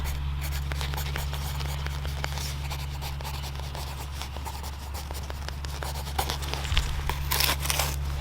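A pen scratches across a label or tape to mark carrot and parsley seeds, a steady close rubbing and scribbling over a constant low hum, growing a little busier near the end.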